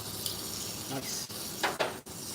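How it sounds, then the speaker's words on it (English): Butter and onions frying on a barbecue grill, a steady close sizzle with a few clinks and scrapes of utensils against the pan. "Look at that sizzle."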